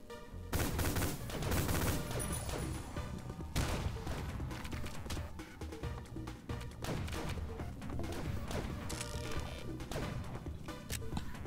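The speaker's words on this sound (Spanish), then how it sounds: "Y esto es una ametralladora chulísima." Rapid bursts of automatic gunfire from a machine gun in the first-person shooter Ion Fury, dense overlapping shots and impact crashes going on almost continuously and loudly, with no speech.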